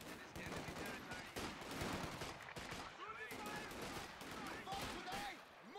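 Enemy machine gun fire in a video game battle, a dense, continuous stream of rapid shots layered with other gunfire, with voices talking over it.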